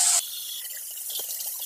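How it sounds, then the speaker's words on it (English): Hot water runs steadily from a tap, a soft continuous splashing after a brief louder hiss at the start. "Run hot water to clean out the pipes"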